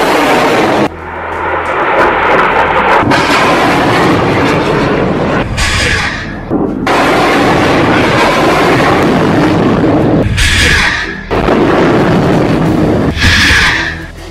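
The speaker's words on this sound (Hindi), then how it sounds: "एक के बाद एक हमास 10 रॉकेट फायर करता है।" Hamas rockets launching one after another, a series of loud roaring whooshes that sweep in and fade out, each burst overlapping a sustained rumble with brief gaps between launches.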